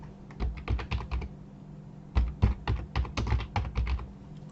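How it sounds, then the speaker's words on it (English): A username being typed on a computer keyboard for a VPN router login, close, crisp key clicks in two quick bursts separated by a short pause, with no talking. "you simply type your username"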